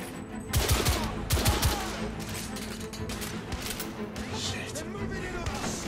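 Rapid gunfire in The Order: 1886 video game, including coach gun shotgun blasts, with dense bursts of sharp shots and impacts from a firefight. Voices talk over the shooting.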